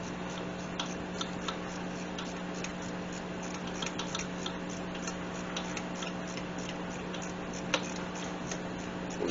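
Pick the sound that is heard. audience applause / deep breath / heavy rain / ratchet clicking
ratchet clicking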